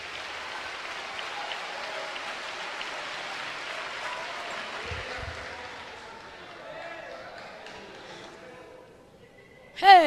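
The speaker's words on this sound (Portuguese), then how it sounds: "Vamos aplaudir com vontade." Audience applause fills the first half as a steady broadband patter, then thins and fades beneath a speaking voice toward the end.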